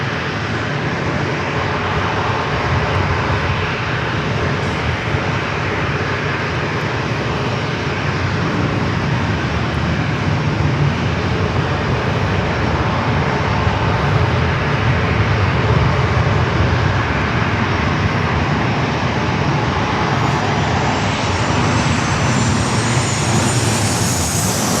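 Jet airliners depart runway 27 at San Diego airport with a loud, sustained engine roar that holds steady throughout, its high whine rising slightly near the end.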